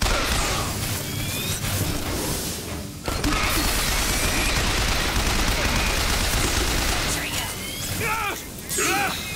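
Loud, dense combat in the video game Bioshock Infinite with continuous gunfire and crashing explosions, a short dip near the start before the barrage resumes, and a voice briefly audible underneath.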